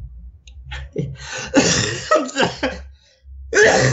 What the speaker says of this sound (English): When I laugh, I have to cough.